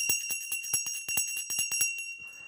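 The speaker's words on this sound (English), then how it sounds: "I'm reminded of that every time I ring the bell." A hand bell rings in about a dozen quick, bright, evenly spaced strikes close by, each with a sustained metallic shimmer, before the ringing stops and fades out.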